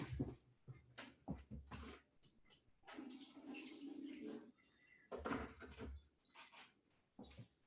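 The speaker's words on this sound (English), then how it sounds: "I'm gonna start my kettle here" Water runs into an electric kettle being filled in a home kitchen, a fluctuating splashing rush with handling clunks and bumps, fairly faint.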